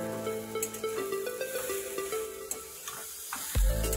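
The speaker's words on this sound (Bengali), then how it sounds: "ঝুড়ো ঝুড়ো করা ডিমগুলো আমি এবার দিয়ে দিচ্ছি।" Scrambled eggs tossed into a pan frying chow mein, giving a steady close sizzle with stirring scrapes and a sharp louder burst near the end.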